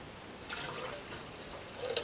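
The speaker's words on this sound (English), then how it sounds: "It's dripping out of the bottom here." Water trickles and drips out of the bottom of a small vessel in a faint, steady patter of light splashes up close, with a few louder drops near the end.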